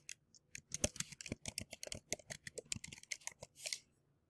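Typing a chat message on a laptop keyboard: a fast, uneven run of close, crisp key clicks with brief pauses, heard alone in a quiet room.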